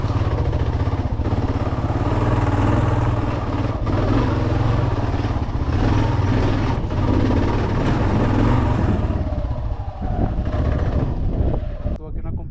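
Motorcycle being ridden uphill on a dirt track through the woods near San Antonio de Las Alazanas, its engine droning steadily under heavy wind buffeting on the microphone, ending in a few rattles.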